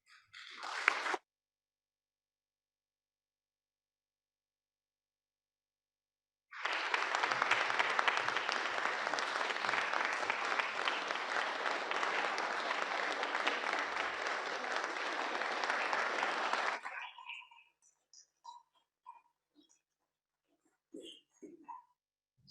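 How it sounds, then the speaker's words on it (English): Audience applause at a bar association House of Delegates meeting after a speech, a burst of steady clapping lasting about ten seconds, then fading into scattered claps and quiet. "with that kind of a resounding applause"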